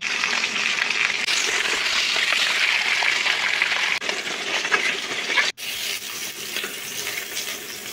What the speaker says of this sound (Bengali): একে একে মাছগুলিকে ভেজে নিয়ে তুলে নিচ্ছি।